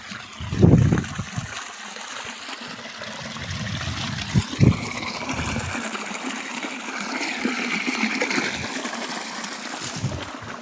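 Irrigation water pours into a lower farm field plot, splashing and trickling close by in uneven bursts, with a louder gush near the start and a softer steady flow after.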